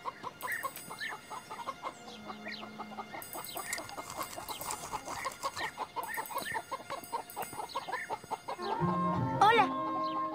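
A cartoon hen clucks in short repeated bursts with chicken-like calls, fairly quiet, in a farmyard scene with music in the background.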